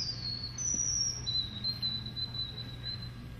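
A person whistles a clear, thin imitation of a white-throated sparrow song: a few sustained high notes followed by a series of shorter repeated notes, over a low background hum.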